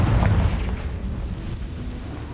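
A Confringo explosive spell bursting in Hogwarts Legacy: a dense, rumbling blast with heavy low boom at the start, fading into a sustained roaring wash of debris over a couple of seconds.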